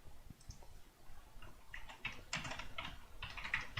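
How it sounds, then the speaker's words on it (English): Rapid, fairly quiet typing on a computer keyboard clatters on steadily for several seconds, with bursts of keystrokes growing slightly denser toward the end and no talking. "if you hear me typing, I'm just writing down the names of the folks that are buy it now"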